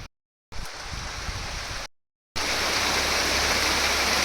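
Heavy rain falling outdoors during a party, a dense, steady hiss that cuts out briefly twice and then returns louder and fuller.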